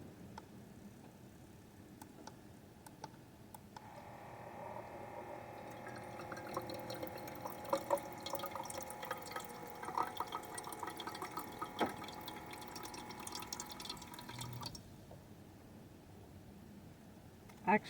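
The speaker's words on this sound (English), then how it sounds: "So we can start and fill up my water." Water runs steadily into a container inside a van for about eleven seconds, a soft, close, rushing stream with faint ticks and drips before and after, quiet overall and with no voices.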